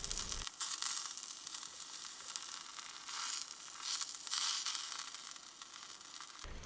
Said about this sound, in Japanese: 最初に長ネギを炒めておきます。